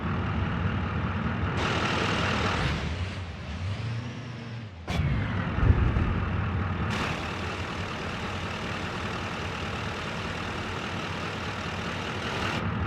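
Heavy truck driving in the video game BeamNG Drive, a loud steady engine drone with broadband road and wind noise throughout, one abrupt hiss burst midway, no talking.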